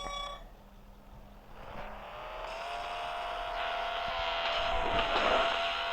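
Racing cars in a video game roar as the race begins, a rising engine drone that swells steadily louder and closer, with no talking.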